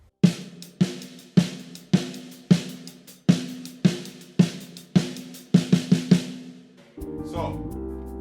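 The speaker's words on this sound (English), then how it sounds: "I'm going to be playing all of the notes on the hi-hat that are not accented" Drum groove with unaccented notes on a closed hi-hat and accents on the snare, no kick drum, played as a steady two-bar pattern up close and alone, ending with a short ringing tone.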